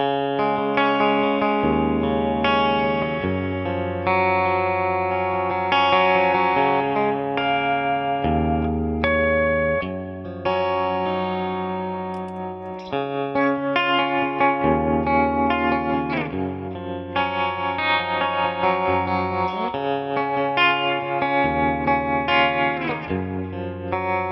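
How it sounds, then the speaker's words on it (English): Electric guitar on a Stratocaster bridge pickup played through effects, a bright, distorted tone with chorus-like shimmer, chords and notes ringing continuously for the whole stretch. "Finally, let's hear the bridge pickup."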